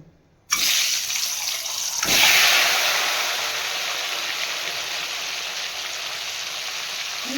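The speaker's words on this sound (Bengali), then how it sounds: "এই ডিমগুলো আমি ভেজে নিচ্ছি" Duck eggs drop into hot oil in a pan and fry with a sudden loud sizzle, which swells as more hits the pan and then settles into a steady crackling hiss.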